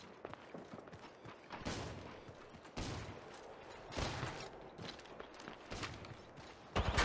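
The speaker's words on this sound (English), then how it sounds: "Listen up, I'm getting shot at." Gunfire in the video game Apex Legends, with several sharp bursts and shots scattered across the stretch at moderate loudness amid quieter game noise and movement.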